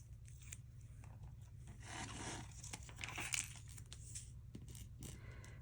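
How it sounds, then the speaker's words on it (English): Short strips of tape tugged and torn from a roll while making a cardstock card pocket, giving quiet, close, raspy crackles in a few uneven bursts over a steady low hum, with no talking. "So let me grab some little tape here."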